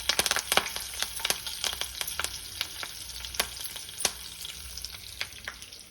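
Curry leaves frying in hot oil, a continuous crackling sizzle with sharp pops and spits scattered irregularly, close and alone without any voices.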